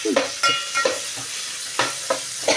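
Whole spices such as cinnamon, cloves and nutmeg fry with ginger in hot oil for bagara rice, a close sizzle punctuated by repeated scraping stirs of a spoon against the pan.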